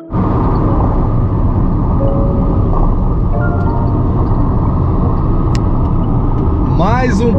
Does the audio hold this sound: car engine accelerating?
yes